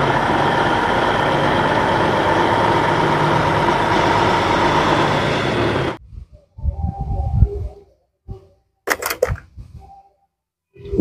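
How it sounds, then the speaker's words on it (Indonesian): Box truck engine running steadily at close range for about six seconds, a dense continuous rumble that cuts off abruptly, followed by scattered short knocks and bursts. "Di sini ada mobil box."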